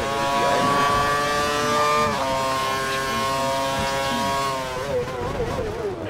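Formula 1 race car engines in F1 2013 hold a loud, high, sustained whine with pitch shifting as the cars run together, dropping off and wavering near the end.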